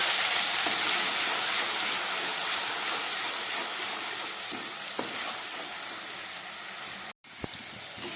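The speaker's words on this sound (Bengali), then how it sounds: "পেস্ট করা পেঁয়াজটাকে আমি 1 মিনিটের মতো ভেজে নিলাম" Onion paste frying in a pan as its water cooks off, a loud dense hiss and sizzle running steadily throughout with a few soft stirring knocks and a momentary break near the end.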